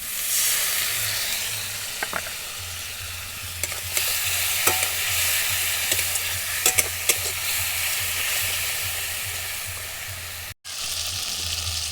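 Pomfret fish curry hissing and sizzling steadily in a pan as water is added, with occasional scrapes and clinks of a spoon stirring, close and continuous with a brief dropout near the end.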